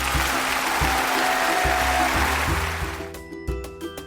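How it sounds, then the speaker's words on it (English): Applause at a ceremony announcing an honour sanctioned by the Queen, a dense, steady wash of clapping that fills the clip loudly and thins out toward the end. "Cue the applause."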